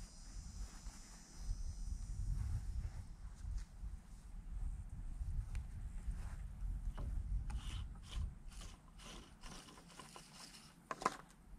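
A rope taped to a 10-foot length of PVC pipe is pushed through outdoor electrical conduit, producing a soft, uneven scraping and rubbing drag with occasional light knocks, close and fairly quiet.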